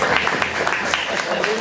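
Audience applause at an information session on honey and honey bees, a short burst of scattered clapping mixed with voices in the room.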